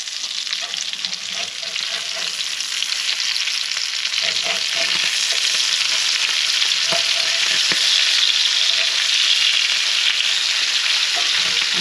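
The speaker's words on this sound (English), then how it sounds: "they've been frying for about 2 minutes" Fish fry in a pan with a steady, dense sizzle that runs throughout, spattered with occasional pops and crackles, close and continuous with no voices.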